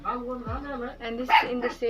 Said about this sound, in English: Sorry for my dog is like barking.